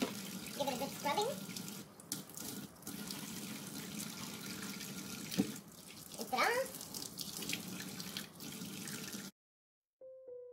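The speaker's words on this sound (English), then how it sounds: "I also wash my potatoes or veggies or give it a good scrubbing" Kitchen tap running into a sink while potatoes or vegetables are washed and scrubbed, a steady close water stream with splashing and rubbing that stops abruptly near the end, followed by a short tone.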